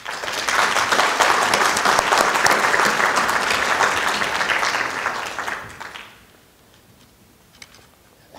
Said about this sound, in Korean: 박수로 찬의를 표해 주시면